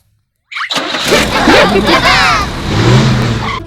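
A cartoon bus engine starts up abruptly after a half-second of silence, then runs loud and steady as the bus pulls away, with other busy cartoon sounds layered on top.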